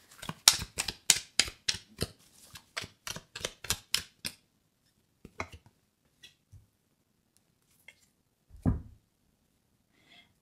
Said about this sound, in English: Okay, I'm just going to shuffle the cards.